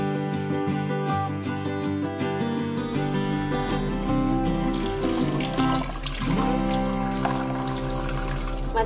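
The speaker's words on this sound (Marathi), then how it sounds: "थोड्या थोड्या पाण्यात आता ही मच्छी आपले बांगडे चांगले साफ करून घेऊ पयत." Bangda mackerel being rinsed in a little water in a home kitchen, a steady running-water wash sound mixed under continuous background music, with no talking.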